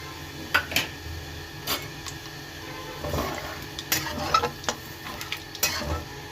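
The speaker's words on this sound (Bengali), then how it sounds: "কালো জিরে ফোড়ন দিলাম" Nigella seeds sizzle in hot oil in a wok while a Bengali fish dish is cooked, giving a steady crackling hiss with scattered sharper pops and occasional stirring scrapes, fairly close and alone without voices.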